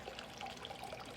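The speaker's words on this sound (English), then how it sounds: "I just heard all this water turn on magically" Water running steadily in a garden room as fountains switch on, a continuous soft trickle and splash that stays even and fairly quiet throughout with no voices.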